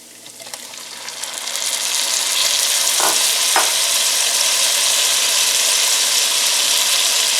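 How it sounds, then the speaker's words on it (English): Diced medium tomato and its juice tipped into a pan of frying spices for a butternut squash and potato Rajasthani curry, raising a steady loud sizzle with a couple of brief clinks partway through. "we're going to add our medium tomato that was diced and as much of its juice as you can get"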